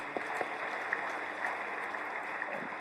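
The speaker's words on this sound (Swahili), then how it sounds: "Naomba makofi mengi sana." An audience claps together at an official ceremony, a dense, steady wash of applause with a few sharper claps standing out, continuous throughout.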